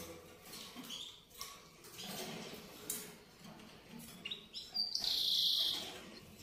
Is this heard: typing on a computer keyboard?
no